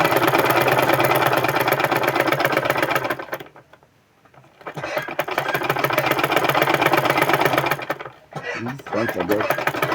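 A sewing machine stitches a pinned cross pocket on men's pants with a loud, continuous motor hum and fast needle chatter. It pauses briefly twice, then runs on close up.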